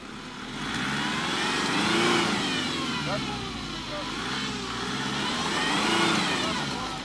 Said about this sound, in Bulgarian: Малко газ да не забуксува.